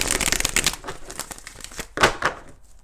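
Tarot cards are shuffled by hand in a rapid run of crisp, papery riffles and flicks, close and dry, with a sharper snap near the end and no voice.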